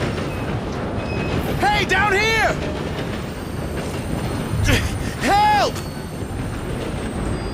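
A moving train in the video game Red Dead Redemption 2 rumbles steadily throughout as a broad, continuous rolling noise, with loud shouting voices breaking in over it.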